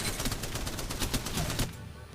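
Rapid light machine gun hip fire in Apex Legends, a dense, loud burst of evenly spaced shots for about a second and a half that then cuts off abruptly.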